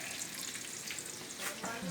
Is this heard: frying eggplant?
yes